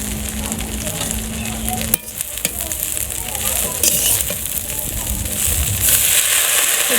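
Jute leaf greens with salt frying in a pan, a steady loud sizzle with crackles and stirring scrapes, a faint hum early on and a brighter hiss near the end.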